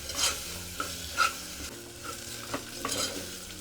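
Ginger garlic paste frying in a pan, stirred with a large ladle: a steady close sizzle broken by repeated scraping strokes, with no voices.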